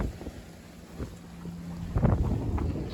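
Wind of about eight knots blows over a sailboat on the Côte d'Azur, a breathy rushing hiss with microphone buffeting that gusts louder partway through, with no voices.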